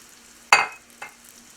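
Chunks of Italian bread croutons dropped into hot vegetable oil and butter, two sharp sizzling bursts as they hit the pan, the first louder, then fading to quiet frying.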